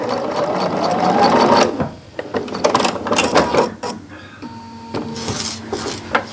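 Home sewing machine stitching pieced fabric for an economy quilt block, a close, steady mechanical whir that runs continuously, pauses briefly, then resumes in shorter bursts with a faint hum between.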